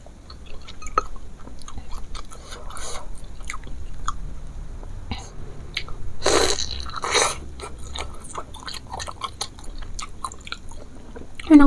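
Someone bites and chews a bakso lilit meatball up close, with wet crunches, smacking and mouth sounds in irregular bursts and brief pauses.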